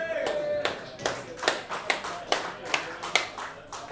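A small group claps for a performer at an evening music night, a thin scattering of individual hand claps, fairly close, with a voice talking over it.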